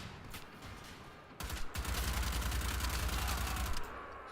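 Gunfire in the PC game Wolfenstein: The Old Blood, heard as a few separate shots followed by a sustained loud burst of rapid automatic fire lasting about two seconds.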